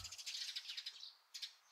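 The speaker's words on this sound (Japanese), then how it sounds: "あ、小鳥のさえずりが。" Small birds chirp and tweet in quick bright bursts in a shopping street in the horror game 10番商店街 (The Exit 8-style arcade), faint and steady with a brief pause before a final pair of calls.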